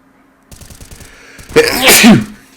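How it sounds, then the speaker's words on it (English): A loud, close sneeze bursts out during an ESEA esports match broadcast, after a short stretch of soft, ticking game sounds. "what an awful time to get a sneeze"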